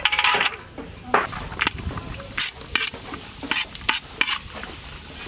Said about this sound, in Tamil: நெய் நல்லா சூடாயிடுச்சு முந்திரியை முன்னாடி போட்டு வறுத்துக்கலாம்